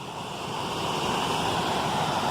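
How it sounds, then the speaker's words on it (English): The waterfalls of Canaan along the Appalachian Trail make a steady, broadband rushing roar of falling water. It sounds close and constant, with no voices over it. "These are the waterfalls of Canaan"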